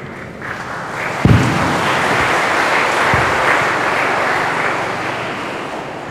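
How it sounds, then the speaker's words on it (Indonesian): Audience applauding for a speaker at a university briefing session in Sorong, a broad steady wash of clapping with a few sharp louder claps standing out early on. "Boleh kita beri tepuk tangan sekali lagi untuk Miss Wanda?"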